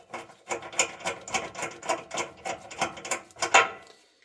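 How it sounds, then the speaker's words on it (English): A ratchet wrench turns a socket to tighten bolts onto studs while fitting an engine or transmission mount on a 2011 Nissan Frontier. It gives a steady run of about a dozen close, crisp ratcheting clicks, ending in a slightly louder final stroke, with no talk. "we're going to attach the bolts for the studs with the socket"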